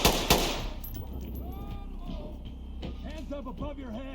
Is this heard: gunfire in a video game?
yes